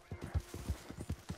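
Horse hooves in the video game Red Dead Redemption 2 thud in a quick, galloping clip-clop rhythm, faint and fairly close, with no voices over them.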